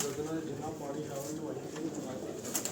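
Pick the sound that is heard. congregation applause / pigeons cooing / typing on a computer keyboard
pigeons cooing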